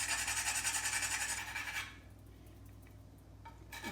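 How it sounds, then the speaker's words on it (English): Whole nutmeg rasped against a grater for apple butter, a loud rhythmic scraping for about two seconds that then stops, leaving a quiet room hum. "So I'm just going to grind what I think would be about 1/4"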